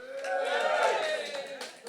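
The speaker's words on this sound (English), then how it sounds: "Give me a cheer if you like Homer" An audience at a performance poetry show cheers and whoops in a short, sustained burst of mixed voices, fairly close and lively throughout.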